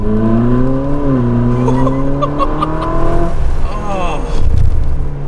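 Ferrari 458 Spider engine while driving, a loud close drone whose pitch rises and shifts through revs, with a person talking excitedly over it.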